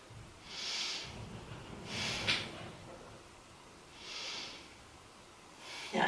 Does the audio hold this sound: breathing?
yes